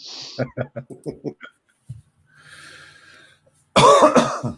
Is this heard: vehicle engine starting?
no